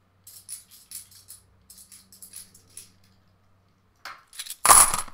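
Coins, UK 50p and £2 pieces, clink and jingle in short bursts as they are sorted by hand, then a louder rattling pour near the end.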